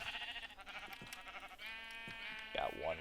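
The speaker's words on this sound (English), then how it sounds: "Oh, cool, sheep." A sheep bleats once near the end, a short, wavering cry in a modded Minecraft world with Buildcraft and Industrialcraft 2, over game sounds heard earlier in the clip.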